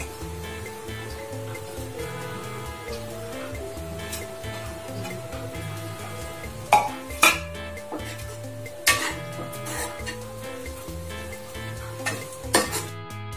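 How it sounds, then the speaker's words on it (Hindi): Almonds roasting in ghee in a kadhai while being stirred, giving a steady low sizzle under soft background music, with several sharp metallic scrapes and clinks of the spoon against the pan in the second half. "घी कढ़ाई में डाल दिया है, थोड़े से बादाम को सेक लूंगी"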